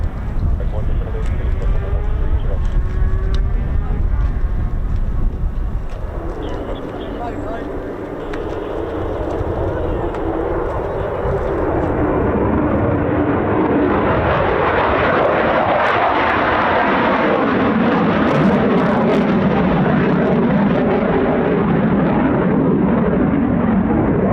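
F-15 and F-35 fighter jets at RAF Lakenheath, home of the 48th Fighter Wing, roar loudly and continuously, the engine noise shifting in pitch as one passes close by, with voices talking in the background.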